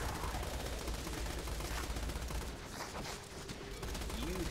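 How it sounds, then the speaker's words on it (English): Rapid gunfire aimed at the player in a video game, a dense crackling barrage that continues throughout, loud and busy, with faint voices mixed in. "What are we getting shot at?"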